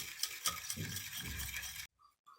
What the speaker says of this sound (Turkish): 2 yemek kaşığı nişasta, pürüzsüz hale gelene kadar çırpıyorum